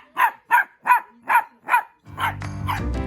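A pet dog barks five times in an even, quick rhythm, close and clear, followed by two more barks over a sudden swell of background noise.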